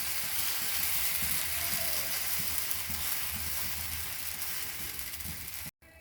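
Tomato wheat dosa batter spread on a hot tawa, giving a steady, close sizzle and crackle that runs evenly throughout and stops abruptly near the end.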